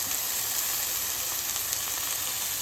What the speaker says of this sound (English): So we flipped them all over and now we'll just let them cook for another few minutes.